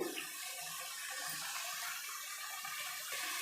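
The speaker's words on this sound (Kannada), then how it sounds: "ಈಗ ನಾನು ನೀರನ್ನ ಸೇರಿಸ್ಕೊಳ್ತೀನಿ" Water poured into a pot of cooking vegetables for rava vegetable biryani, a soft continuous splashing and trickling at low level with no talk.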